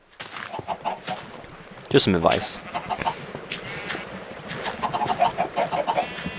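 Chickens in the Minecraft video game cluck repeatedly in short bursts, mid-distance and moderately loud, with someone talking over them and a louder clatter partway through.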